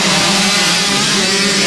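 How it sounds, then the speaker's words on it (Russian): Motocross motorcycle engines roar loud and continuous at a race on Yellow Mountain, a dense, close, unbroken buzz with no pause. "Рев моторов не смолкал над Желтой горой весь день."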